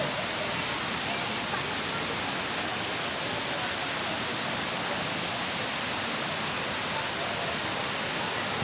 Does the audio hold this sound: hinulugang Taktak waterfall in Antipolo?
yes